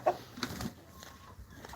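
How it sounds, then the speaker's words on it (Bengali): A few soft, faint clucks come from chickens huddled together in a coop, brief and quiet against a low background. "মুরগিগুলো একখানে হয়ে গেছে এলোমেলো করার কারণে সবগুলো এখানে হয়ে গেছে"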